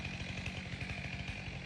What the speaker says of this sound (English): Let me get that chainsaw.